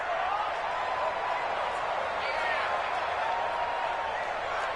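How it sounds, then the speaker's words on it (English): A stadium crowd in a PS4 football video game roars steadily for the whole stretch, a dense, even wash of cheering with a commentator's voice mixed in. "the crowd getting into it as we come up on a big third"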